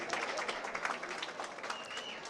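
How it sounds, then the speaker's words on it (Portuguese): An audience at a tribute ceremony for a Goiás motorsport federation figure gives dense, continuous applause, with many hands clapping together at a steady level throughout. "Anselmo Pereira, os aplausos para você, do automobilismo goiano, da FAUG de todos."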